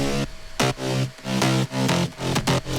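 Layered synth bass built from Serum presets plus a softer second patch, playing short rhythmic stabs with sharp attacks and pauses between hits, loud and alone with no talk.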